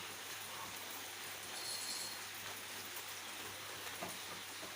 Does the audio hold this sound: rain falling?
yes